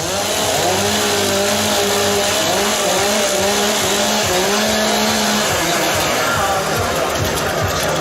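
Several chainsaws warming up at a Stihl Timbersports competition in Schirrhein, France, loud revving engines rising and falling in pitch together over crowd noise, with an announcer talking underneath.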